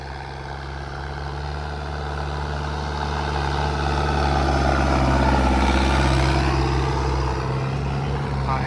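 A diesel tractor engine drones while ploughing a field, a steady heavy low hum that swells louder midway then eases, continuous with no talk.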